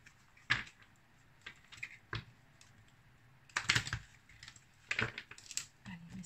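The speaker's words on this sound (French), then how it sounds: "Allez, on va commencer par mélanger les cartes." Tarot cards are shuffled by hand, giving soft, irregular clicks and brief riffling flutters in uneven bursts, close and fairly quiet, with no talking over them.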